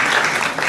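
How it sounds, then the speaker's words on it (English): Guests clapping for the groom at a wedding reception, a brief loud burst of dense applause filling the room without any speech over it. "As for Pulkit, can we also give him a huge round of applause?"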